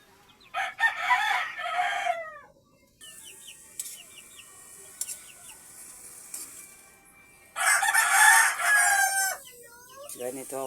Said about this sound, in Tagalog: May mga sisiw tayo rito.